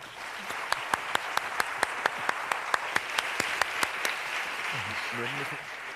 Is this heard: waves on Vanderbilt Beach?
no